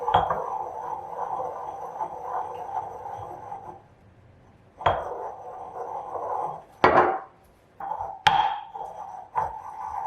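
A utensil scrapes around the sides of a bowl of freshly made pesto, giving a sustained scraping hum broken by sharp clinks and knocks against the bowl, with pauses between strokes.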